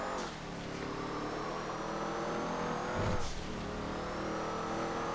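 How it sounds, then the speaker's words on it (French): A Z-Type car engine revs in GTA 5, a steady loud mechanical drone with harmonic whine and a brief surge of revving midway, with no talking. "on entend bien le moteur"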